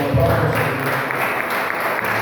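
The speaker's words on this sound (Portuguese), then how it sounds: "As palmas e louve ao Senhor" A church congregation claps together during a worship service, a brief burst of rhythmic group clapping heard in a reverberant hall for just over two seconds.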